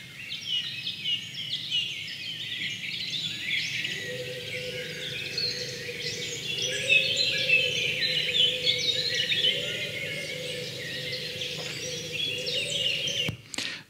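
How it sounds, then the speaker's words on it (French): Dawn chorus of forest birds, including a wren: many overlapping chirps and trills at moderate distance, continuous throughout, with a steady low hum underneath and no talking. "C'est un chœur d'oiseaux assez classique."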